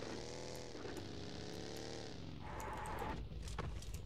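Vehicle engine in the mobile battle royale game PUBG Mobile, a steady loud droning motor with shifting pitch that runs continuously and swells slightly toward the end, with no talk over it.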